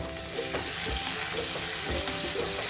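Chopped tomatoes fry with ginger and garlic for a chicken kosha masala, a steady close sizzle broken by a few soft stirring scrapes and thumps, with no voice over it.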